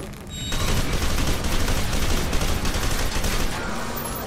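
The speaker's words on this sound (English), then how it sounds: "Go forth, grenade." Sustained heavy gunfire with booming impacts, including a grenade blast, fills a firefight in the shooter game F.E.A.R. 2: Project Origin, loud and continuous after a brief quieter start.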